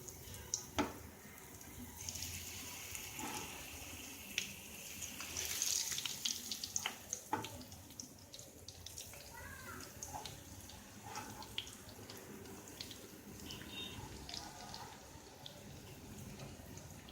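Fish pieces fry in hot oil, a soft, steady crackling sizzle with scattered pops and small clinks, fairly faint and continuous.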